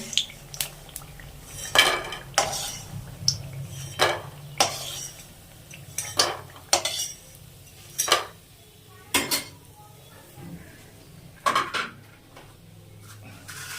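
A metal spoon scrapes and clinks against a pan in a series of sharp, close knocks while fried lentil dumplings are scooped out, with a faint low background hum between the strikes.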